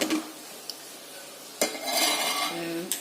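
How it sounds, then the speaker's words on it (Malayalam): A lid clanks onto a cooking pot of leafy vegetables with a couple of close metallic clinks and a brief rattle as it settles, over a steady background hiss. "Now close with the lid and cooking."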